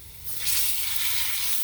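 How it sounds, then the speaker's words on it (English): Steak hits a very hot pan and bursts into a loud, bright sizzle that holds steady and close, with no voices. "You can already hear it start to sizzle. Pan is really hot."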